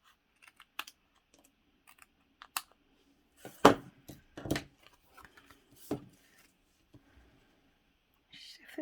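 A paper trimmer cuts through card in a short burst of sharp clicks and scraping slides near the middle, with scattered quieter taps and handling noises around it in a quiet room.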